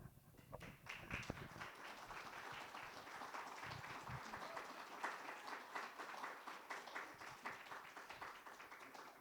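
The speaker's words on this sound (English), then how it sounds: "Please hold off on your applause and stuff afterward" Audience applause at a candidates forum for 50th Ward alderman and 24th Police District council: steady dense clapping from a crowd in a hall, sustained for several seconds at moderate level.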